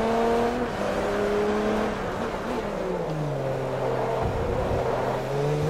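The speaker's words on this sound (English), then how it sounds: "That was some wicked oversteer" Forza Motorsport 3 LMP race car engine droning steadily, its pitch dipping and rising as the car slides through a wicked oversteer, loud and continuous with no talk.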